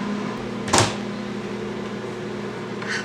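A low, steady microwave oven hum runs throughout, with a brief sharp knock near the start and a faint click toward the end.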